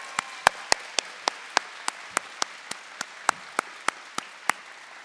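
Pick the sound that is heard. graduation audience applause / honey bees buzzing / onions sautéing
graduation audience applause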